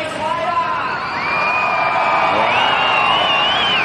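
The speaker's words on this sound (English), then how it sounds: "biggest cheer so far has definitely been reserved for Kelly." Big surf contest crowd cheering and whooping for Kelly Slater at the Snapper World Champs heat, a loud sustained roar of voices with shrill whistles rising above it, heard up close.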